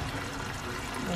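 Water poured into a pan of pasta sauce with tomatoes, a short steady splashing pour heard close and continuous.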